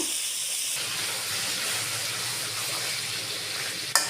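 Chicken pieces hit hot spiced oil and give off a loud, even, close hiss of sizzling that runs unbroken, ending with a single sharp knock from a utensil; no one speaks.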